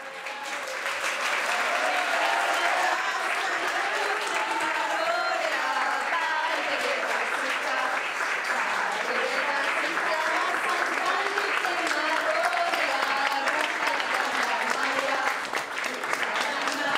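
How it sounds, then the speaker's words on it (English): An indoor audience at a community cookery event gives sustained, even applause, many hands clapping steadily at moderate volume for a long stretch before it begins to taper near the end. "if you give them a big round of applause"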